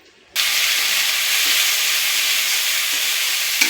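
Crushed onion, ginger and garlic hit hot oil for a khesari dal tempering, bursting into a loud, close, steady sizzle after a quiet moment and hissing on evenly without talk.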